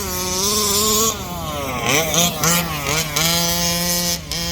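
A Rovan Baja 5T RC car with a 36cc two-stroke engine screams at full throttle nearby, its high buzzing pitch rising and dipping through several throttle changes, loud and continuous.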